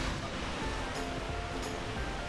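A waterfall beside a campsite at Curug Cihurang rushes in a steady, broad roar, constant and fairly near with no other sound standing out.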